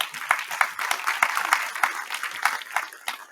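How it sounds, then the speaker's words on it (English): A crowd at a Meet the Candidates 2022 evening event gives a round of applause, with dense, continuous clapping at moderate volume and no talk over it. "Give her a round of applause."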